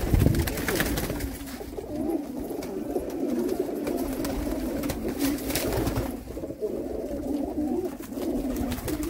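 Red-eyed pigeons at a sale in Jammu coo continuously, several birds at once, close by over a noisy, rustling background.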